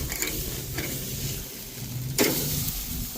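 A ribeye steak sizzles steadily on a Weber Genesis gas grill, a continuous close hiss with a few scraping bursts as the meat is turned, and no talking.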